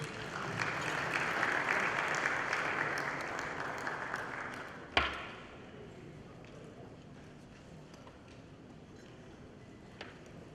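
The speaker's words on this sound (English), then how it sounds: "Please give him a round of applause, please." An audience at a corporate event in Nigeria claps in steady applause that starts fairly loud, then thins and fades out. A sharp knock lands in the middle, and quieter room noise follows.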